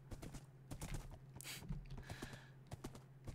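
Horse hooves clip-clop at a walking pace in the Minecraft video game, a run of quick, light, fairly faint taps under a low steady hum with no talking.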